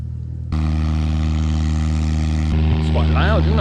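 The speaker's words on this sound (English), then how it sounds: "Guess you need a big engine to get off the ground, even for a small plane." Small propeller airplane engine at a Honda-owned airfield used by a skydiving club, a loud steady droning roar that starts abruptly and continues strongly, with a voice speaking over it near the end.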